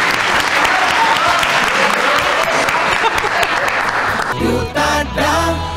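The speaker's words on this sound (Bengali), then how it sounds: "একটু এনকারেজ কর সবাই মিলে, খুব ভালো খেলছে। জোরে হাততালি।" Loud, sustained clapping from a group of college students at a quiz and game show fills most of the stretch, then fades as a voice begins speaking.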